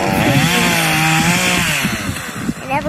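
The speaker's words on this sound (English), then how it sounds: "It's a little chainsaw. a little one" A small chainsaw runs steadily close by while cutting a tree, its engine whine shifting in pitch as the load changes, with a voice briefly heard over it.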